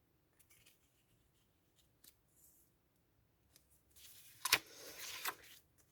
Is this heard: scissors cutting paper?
yes